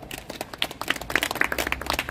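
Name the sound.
congregation applauding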